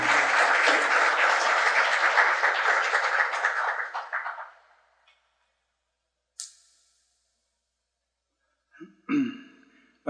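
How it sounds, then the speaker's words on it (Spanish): Church congregation at an anniversary worship service applauding to welcome a pastor, loud sustained clapping that fades out, followed by near silence and a couple of brief rustles and a cough. "te invito a darle un aplauso"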